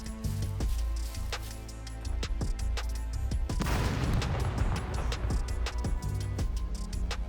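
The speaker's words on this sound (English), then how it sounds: "let's just throw a grenade at it" Frag grenade blasts and gunfire against a turret in the SCUM video game, a series of sharp booming impacts with rattling bursts, loud and close.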